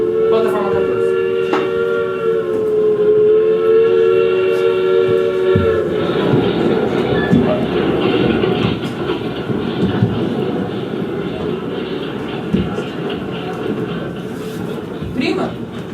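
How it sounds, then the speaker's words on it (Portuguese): A train departs from a station platform with a long horn blast that cuts off after several seconds. Rumbling wheels and clattering cars follow, with a brief whistle near the end. People talk over it in a crowded, echoing setting. "Anunciamos a partida do trem das 2 horas, com destino ao nosso lar."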